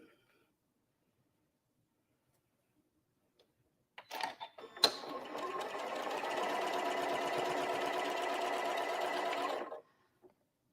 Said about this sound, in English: So we can go ahead and do a little bit of right sides together here and here, and sew your seam.